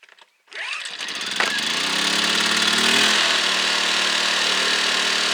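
A small gasoline engine starts on a single pull, its brief pull-start rattle climbing into a steady, fairly loud running drone that holds close and even until the end.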